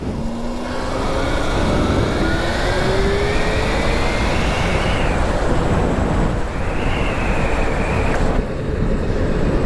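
A water-cooled Sotion GTS35 mid-drive e-bike motor running under load while riding, a loud steady whine with rising and falling pitch over broadband rolling and wind noise, close and continuous throughout.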